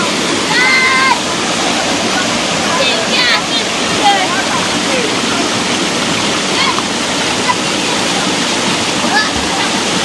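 River water rushes and flows in a loud, continuous roar, with steady splashing and no pauses, close by.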